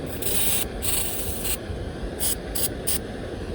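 Several hissing bursts from an aerosol can of penetrating oil sprayed onto a rusted-shut irrigation pivot valve, one long spray followed by short quick ones, close up over a steady background rumble.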